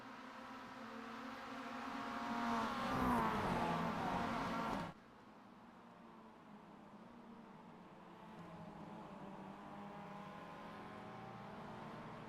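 Race cars accelerating at the green flag start at Daytona in the iRacing game, Mazda machines, a rising engine drone that swells loudly then drops to a steadier, quieter hum.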